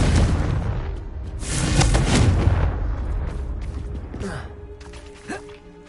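In a Harry Potter video game, a Confringo spell goes off in loud, booming blasts like artillery fire, rumbling through the first few seconds and then fading into quieter mechanical clanks.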